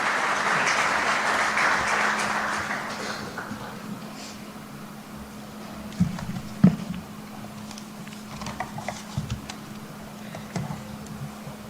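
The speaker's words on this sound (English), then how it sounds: "may I request everyone to please welcome him with a round of applause" Audience applause at the FIBAC 2024 banking conference welcoming the Governor to deliver his inaugural address: a full burst of clapping that fades within a few seconds, leaving room noise with a few footsteps and small knocks.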